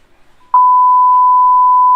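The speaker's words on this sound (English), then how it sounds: "Beep." A loud, steady censor beep, a single pure tone holding for about one and a half seconds before stopping sharply, preceded by near silence.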